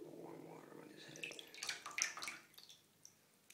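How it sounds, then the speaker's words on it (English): Warm water splashes and trickles over a baby bearded dragon during a bath, soft, close dribbles and drips building to a brief splashy run, then fading to quiet. "Get a little warm water on his head."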